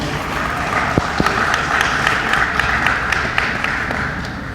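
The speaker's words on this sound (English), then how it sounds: "Let's give Brother Fleming another round of applause." A crowd applauds after a speech at a coalition gathering, dense steady clapping throughout, fairly loud and close, with no talk over it.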